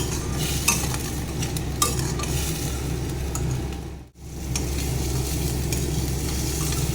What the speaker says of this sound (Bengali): পেঁয়াজটা ভাজা হয়ে গেছে বন্ধুরা